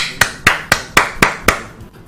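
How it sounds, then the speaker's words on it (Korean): Six evenly spaced, crisp single claps, close and loud, in a slow steady rhythm, then silence. "박수 한번 쳐주죠"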